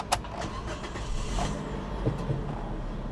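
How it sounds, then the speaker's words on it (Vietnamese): A 2019 Toyota Vios with a manual gearbox and about 40,000 km starting up, a brief cranking burst followed by a steady, quiet idle heard from inside the car. "tôi đề máy cho quý vị nghe ha"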